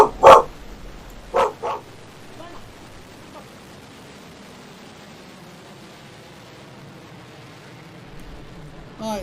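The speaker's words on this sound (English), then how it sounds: "Perfect timing for my dog to start barking." A dog gives a few sharp, close barks in quick succession at the start, then falls quiet over a low steady background hiss.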